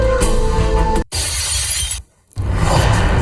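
Loud crash of a Scorpio SUV's window glass being smashed in an attempted theft, two bursts of shattering separated by brief silences, close and harsh.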